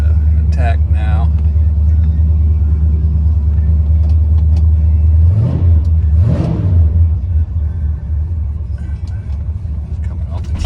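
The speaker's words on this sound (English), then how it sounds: "that's how 502 with the carburetor starts up" A carbureted 502 engine in an El Camino idles with a deep steady rumble, then two quick throttle blips rise and fall before it settles back to a loud idle, with a person talking briefly near the start.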